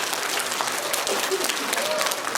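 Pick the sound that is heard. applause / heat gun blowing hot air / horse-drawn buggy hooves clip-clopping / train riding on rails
applause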